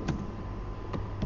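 Brief typing on a computer keyboard: three soft key clicks spaced unevenly over a steady low background hum, close but quiet, no speech.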